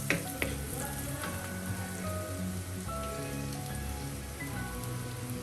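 Pepper powder and garam masala roasting in a pan for a sweet potato masala fry, with a soft continuous sizzle and crackle, a few sharper pops at the start, no speech.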